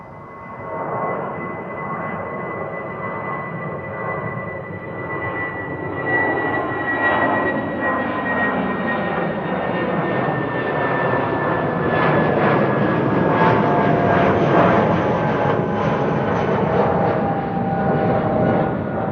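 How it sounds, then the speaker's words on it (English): An SAS narrow-body jet airliner takes off, its engine roar building from moderate to louder over the run with a rising whine and swelling rumble, heard alone without voices. "More narrow bodies taking off. SAS to Copenhagen, flight 552."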